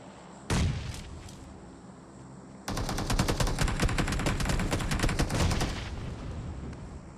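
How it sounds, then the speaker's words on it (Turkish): Grenade explosions in PUBG Mobile: a sharp blast opens, then after a pause a long burst of rapid, repeated explosive cracks rattles on for about three seconds before fading. "Hatta ben bir tane daha bomba atayım şöyle hop."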